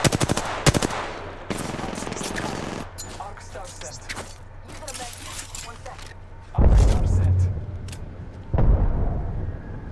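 Rapid automatic gunfire bursts from the video game Apex Legends, sharp cracks in clusters with louder heavy shots near the end, mixed with game effects and voices talking over the action.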